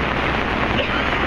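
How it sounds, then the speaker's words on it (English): Dense steady hiss of heavy rain pouring down on a sailboat, broadband and loud throughout, with no clear voices. "there's so much rain, it's hard to see in radar"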